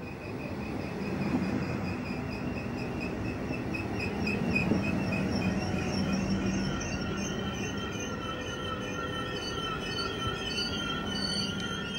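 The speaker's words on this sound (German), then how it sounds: "Ein Regionalexpress nach Düsseldorf rollt ein." A regional express train to Düsseldorf rolls steadily into a station in the Weserbergland, wheels squealing with sustained high metallic tones over a continuous low rumble.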